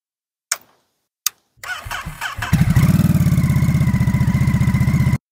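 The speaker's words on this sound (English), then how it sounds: "Let's get this bike warmed up." A motorcycle engine cranks in a couple of short bursts, catches, and settles into a loud, steady, close-up idle while it warms up, with no talk over it.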